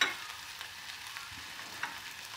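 Cut okra frying in hot oil with salt, a soft continuous sizzle with a few light stirring clicks, close and fairly quiet, with no talking.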